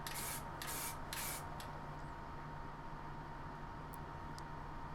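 Steady hiss of an airbrush spray gun running continuously, with a few short bursts of sharper spray at the start over a constant low mechanical hum.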